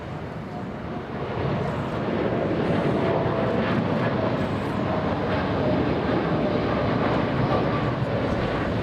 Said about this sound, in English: That's Air Canada Flight 788 on its way back to Toronto